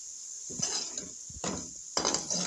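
A spoon scraping and stirring carrot halwa in a pan, close up, in three broad bursts of scraping with a faint sizzle underneath.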